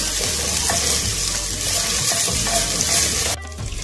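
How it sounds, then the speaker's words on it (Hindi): Ginger garlic paste stirred into onions frying in a pot, giving a loud, steady sizzle and crackle with scraping stirring sounds that carries on for several seconds before abruptly dropping away. "अब मैं इसमें अदरक लहसुन की पेस्ट ऐड कर दूंगी और इसको मिक्स कर लूंगी अच्छी तरह से"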